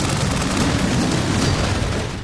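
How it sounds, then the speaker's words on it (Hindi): In a war-themed shooter video game, a helicopter crashes and explodes as a loud, sustained roar of blast and rumble that eases slightly toward the end. "गिर गया है, चॉपर गिर गया।"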